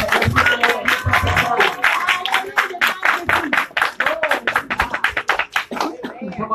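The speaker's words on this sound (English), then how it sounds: "let's give the Lord a hand clap of praise" A church congregation claps in praise, a dense and rhythmic run of hand claps over several seconds, with voices and talking mixed in among the clapping.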